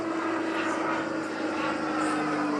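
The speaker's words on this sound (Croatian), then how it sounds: "Odmah potom avion ubrzava na brzinu za izvođenje stall turna." A Zlin aerobatic propeller airplane drones through maneuvers, accelerating for a stall turn, its engine a steady, fairly loud hum with a sustained tone that rises slightly, heard at a moderate distance.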